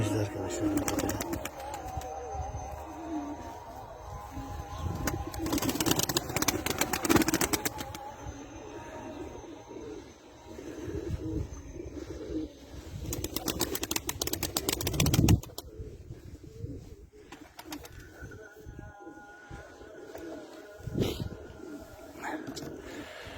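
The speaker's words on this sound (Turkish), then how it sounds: "Yeni aldığımız kuşlar havaya kalktı arkadaşlar." Blue and white Arab tumbler pigeons coo with soft repeated calls amid rustling, flapping and chirps, while someone talks briefly at times.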